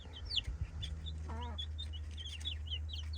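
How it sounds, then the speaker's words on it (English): A young chick chirps repeatedly, calling for the rest of the flock while being introduced to the other chickens, with high peeping calls and a brief clucking hen over a steady low background hum. "The chirp that she's doing? Where are you? Where did they go? That's a call."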